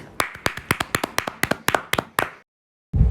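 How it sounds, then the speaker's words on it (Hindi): Children clap for the second-place winner of a drawing contest at a school Republic Day event, a quick run of about a dozen sharp, evenly spaced claps that stops abruptly, followed by brief silence and a low thump. "एक बार ध्रुव के लिए भी जोरदार ताली बजाएंगे"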